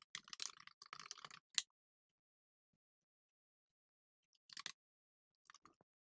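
Quick bursts of computer keyboard typing for text entry, a dense clatter of keystrokes up front, then silence and a short second burst of keys later, close and moderately loud with no talking.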